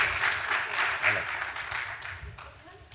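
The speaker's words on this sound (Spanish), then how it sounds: "la recibimos con estos aplausos" Brief, fairly faint burst of audience applause at a panel conference, many hands clapping together as a panelist is welcomed onstage, tapering off toward the end under a speaking voice.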